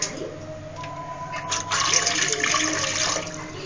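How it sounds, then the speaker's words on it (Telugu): Water pours steadily into a pot set up for steaming, a close, continuous gushing and filling that grows fuller partway through. "నీళ్ళు వేయాలి"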